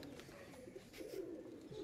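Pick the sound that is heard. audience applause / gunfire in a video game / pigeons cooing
pigeons cooing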